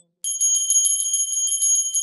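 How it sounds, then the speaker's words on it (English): A small hand bell rings continuously during Arati worship before a Shivalinga, a bright, rapid, steady jingling that starts after a brief silence and carries on close and clear. "please ring the bell as you do so"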